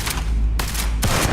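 Gunfire in the video game Starfield: two sharp, loud shots about half a second apart, each with a brief booming tail, heard alone.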